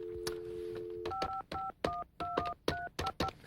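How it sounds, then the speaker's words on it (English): Telephone touch-tone dialing: a steady dial tone, then about eight short, evenly spaced DTMF beeps, clear and close with small gaps between them. "Just call up the internet service provider now."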